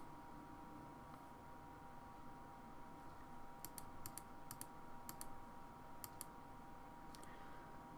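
Four quick key presses punch in a 4-digit code on a keypad in a video game, each a crisp click, then a few more in a short run over a low steady hum.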